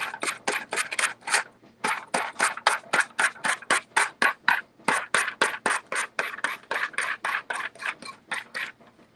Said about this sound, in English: Just gonna take my sander around the edges to remove all of the excess.